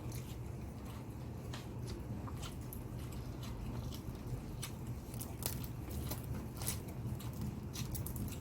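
Crispy fried pork head is bitten and chewed up close with soft crunches and wet mastication, quiet and without talk.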